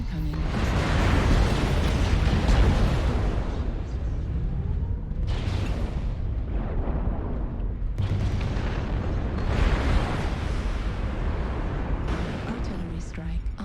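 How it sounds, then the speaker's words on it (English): Artillery strike explosions in the video game MechWarrior Online, with loud, dense rumbling blasts that roll continuously over several seconds, heavy booms overlapping each other under occasional game voice callouts. "Artillery strike online."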